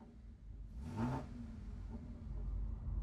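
Audi S5 engine idling as heard from inside the car, a steady low rumble with a brief swell of revving near the start before settling back to a constant hum.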